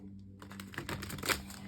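A brief, soft riffle of cards being shuffled close by, a quick run of light papery clicks after a moment of quiet.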